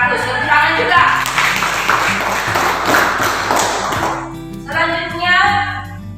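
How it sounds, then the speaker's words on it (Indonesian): A burst of clapping from a group of students in a classroom, dense and close, fading after a few seconds, with talking and a musical tone around it. "Tepuk tangan juga"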